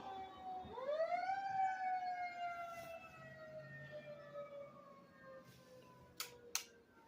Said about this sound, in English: So sorry for sirens.